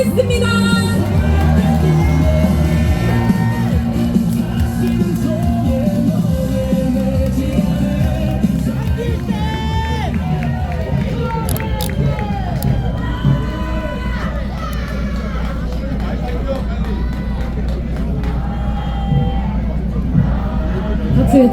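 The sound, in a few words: rally crowd applauding and cheering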